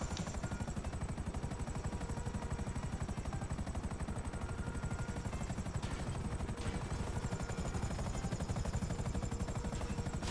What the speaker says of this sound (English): Please land the helicopters. Don't break them.